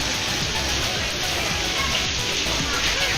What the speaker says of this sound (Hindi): झरना बह रहा है